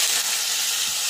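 Mashed tomatoes hit a hot rasam tempering of asafoetida in a pan, giving a loud, steady close-up sizzle and frying hiss that holds without a break.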